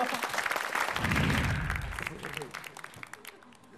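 A studio audience at an Indonesian television comedy show claps, a crowd applause that swells through the middle and then fades, with talking over it.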